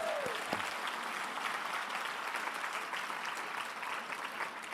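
An audience applauds at a talk, a sustained, even wash of clapping from many hands that carries steadily throughout at moderate loudness.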